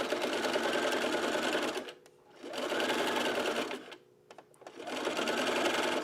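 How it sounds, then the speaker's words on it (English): A sewing machine stitches a stretchy bralette seam in three bursts of steady, close mechanical whirring, separated by short pauses. "and then I sew"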